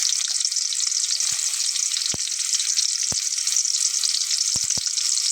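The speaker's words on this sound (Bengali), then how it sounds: "তেলটা গরম হয়ে গেলে আমি এখানে পেঁয়াজ কুচি করে নেওয়াটা দিয়ে দিচ্ছি বন্ধুরা" Chopped onions sizzling in hot oil for a bhindi masala, a steady bright hiss with a few soft clicks of a utensil against the pan, no speech.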